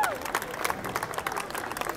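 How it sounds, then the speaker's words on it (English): Audience applause with scattered clapping and some cheering from a crowd at a live show, steady and moderately loud across the whole clip, with crowd chatter mixed in. "One more round of applause."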